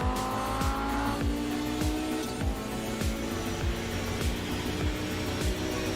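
Race cars at the Molecule Australia Keep It Clean 200 round, cornering through a long right-hander and final bend onto the straight, engines passing one after another in quick, sweeping bursts with tyre squeal, fairly close and loud.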